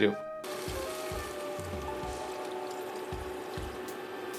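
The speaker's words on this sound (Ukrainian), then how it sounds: "Заливаємо все це водою близько 400 мл." About 400 ml of water poured into a pan of lentils with meat and vegetables, a soft continuous pouring and light sizzle with a few low thuds, under a steady faint hum.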